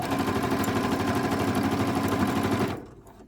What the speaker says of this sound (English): I've moved my needle over to the far right position so that my stitching is close to the edge here.